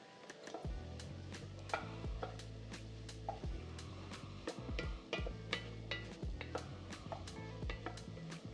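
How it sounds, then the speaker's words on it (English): A spoon stirring chili in a pot, giving repeated close scraping and knocking clicks against the pot over a steady low background hum, with no voices. "so let's give this a little stir"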